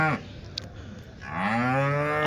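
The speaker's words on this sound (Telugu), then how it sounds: "ఈరోజు మనం చింతామణి ఆవుల సంతలో అయితే ఉన్నామండి" A cow at the Sunday Chintamani cattle market gives a long, loud, rising moo close by after a brief quieter stretch, with market noise behind it.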